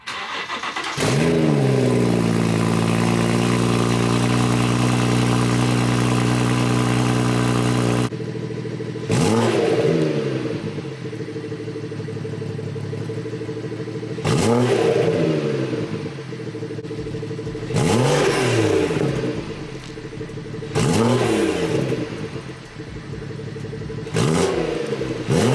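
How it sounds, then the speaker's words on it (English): A BMW B58 engine fitted with a newly installed downpipe starts and idles with a steady hum, then is revved in four sharp, loud bursts separated by idle, each rising and falling quickly. "Now I guess we just gotta turn it on and give it some revs."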